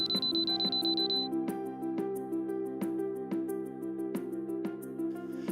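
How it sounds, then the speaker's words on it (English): A conveyor system's breakdown-mode alarm beeps loudly and rapidly in a regular pulsing pattern, with a high steady tone at the start. "The beeping sound becomes fast and the screen displays BD-Conv permanently."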